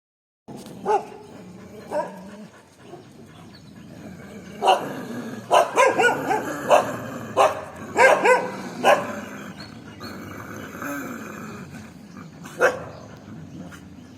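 Stray dogs in a street territory dispute, several barking in sharp bursts with growling and whimpers between, the barks clustering loudly mid-clip and tapering to a single late bark.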